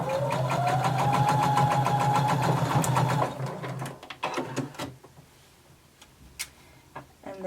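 Close, loud sewing machine stitches a garment seam with a rapid ticking motor rhythm for about three seconds, then slows and stops, followed by scattered clicks and handling sounds.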